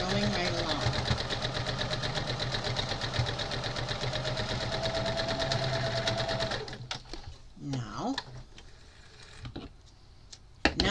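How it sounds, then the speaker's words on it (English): A sewing machine stitches quilt fabric in a fast, steady mechanical whir for about six seconds, then stops, leaving scattered handling clicks and rustles. "and we're sewing right along"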